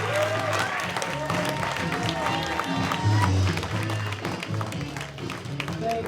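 An audience at a physics-themed lecture and comedy night claps for Dr. Gregory Matthews, a statistics lecturer at Loyola. The steady applause lasts the whole stretch, with some cheering and crowd noise mixed in.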